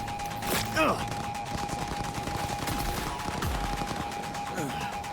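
Gunfire in the Cyberpunk 2077 video game: several sharp shots and bursts against a steady droning background hum, moderately loud, with a brief voice-like sound between them.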